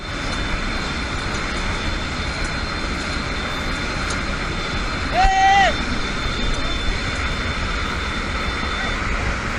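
Steady engine drone from a military aircraft during a paratrooper jump exercise, a continuous loud roar with a brief whistling tone partway through; no clear speech over it.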